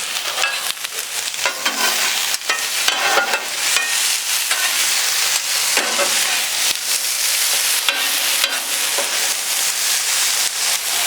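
Beer brats with peppers and onions sizzling on a grill, a loud continuous hiss and crackle with scattered sharp pops and occasional tool clicks, no voices.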